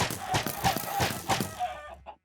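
Minecraft chickens clucking in a game farm pen, a series of short rhythmic clucks about every third of a second, close and fairly loud, ending in a last brief cluck before silence.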